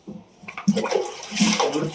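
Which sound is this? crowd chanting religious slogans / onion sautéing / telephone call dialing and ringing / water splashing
water splashing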